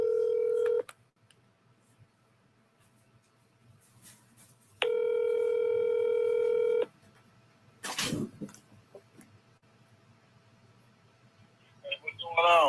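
Telephone dialing tones: a steady tone, a pause, then a longer steady tone, followed by a brief burst of noise and a short electronic beep pattern at the end.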